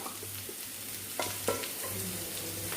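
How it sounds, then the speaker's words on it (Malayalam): Okra and fish tamarind curry bubbling in a pot, a soft steady simmer with a few scraping stirs of a spoon, close and fairly quiet. "ആഹാ, എല്ലാം തിളയ്ക്കുന്നുണ്ട് കേട്ടോ. ഇളക്കി കൊടുക്കാം."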